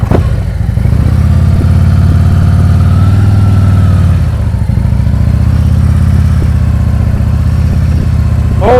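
A motorcycle engine during advanced slow-speed riding practice in Illinois, a loud, steady low rumble held at a low, even speed with slight rises and dips and a faint clatter, no voices.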